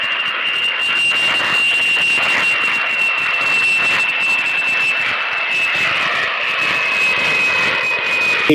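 A loud jet airplane roars steadily nearby, its engine whine holding a high tone throughout.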